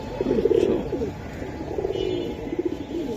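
Giribaz and other fancy pigeons coo repeatedly in low, throaty phrases, fairly close and steady, with a faint background hiss and no talk.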